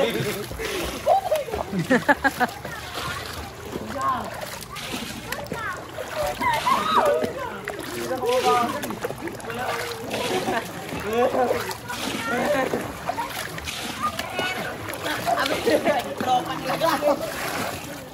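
Splashing and sloshing water in an outdoor swimming pool, irregular close splashes continuing throughout, mixed with children's voices and chatter.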